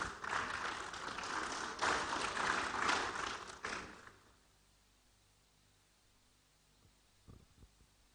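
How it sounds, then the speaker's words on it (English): A conference audience gives a loud burst of applause to welcome a speaker. The clapping lasts about four seconds, then drops away to near silence with a few faint taps afterward. "Shall we welcome him with a big round of applause?"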